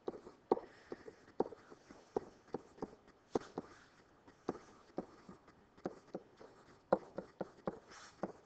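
A pencil writes on paper close up, producing a steady series of short scratchy strokes and taps at an irregular pace, with no talk.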